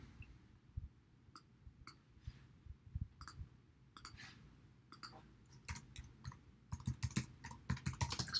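A date being typed on a computer keyboard: quiet, close key clicks in irregular bursts that grow quicker and denser toward the end, with no talking.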